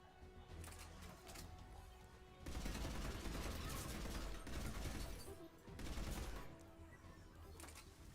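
Rapid rifle gunfire in the Mass Effect 3 shooter comes in sustained automatic bursts, loud and close, separated by brief quieter gaps with faint background game sound.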